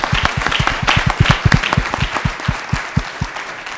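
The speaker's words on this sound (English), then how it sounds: "can we give our law enforcement officials a round of applause for the work that they" An audience applauds law enforcement officials at a community gathering, with dense, steady clapping close by that slowly thins toward the end.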